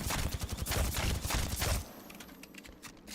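A modded Volt SMG in Apex Legends firing a rapid, close burst of gunfire for under two seconds, then quick light clicks and clatter of the reload mechanism, with no talk.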